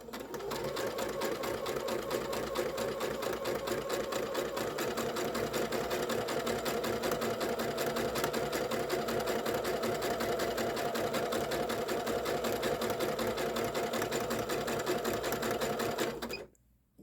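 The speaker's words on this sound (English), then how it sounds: "I'm going to go ahead and sew down our tulle first." A sewing machine zigzag stitching down tulle, a steady rapid mechanical whir with fast rhythmic needle ticks running continuously close up, then stopping abruptly at the end.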